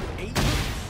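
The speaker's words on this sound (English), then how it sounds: "they shooting me" Gunfire bursts out in the Tekken 8 fighting game, a sudden loud broadband blast that follows a quieter stretch and then stays dense and sustained for the rest of this short moment.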